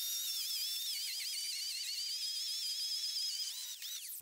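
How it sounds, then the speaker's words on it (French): An 1800-watt electric chainsaw runs steadily with a high, whining motor tone that wavers slightly in pitch, then cuts off abruptly at the end. "Le prochain test se passera sur une tronçonneuse de 1800 watts."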